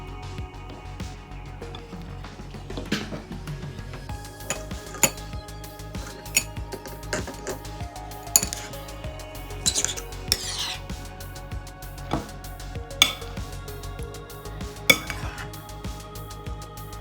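Pasta added to an antipasto salad and mixed in a bowl, with scattered clinks and scrapes of utensils against dishware, moderately close and irregular, without talk.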